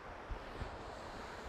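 Wind gusting outdoors against a microphone, a steady broadband rush with a couple of low thumps, no talking.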